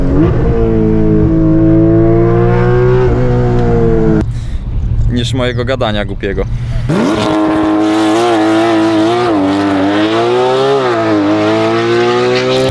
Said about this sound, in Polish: raczej lepiej usłyszeć dźwięk silnika.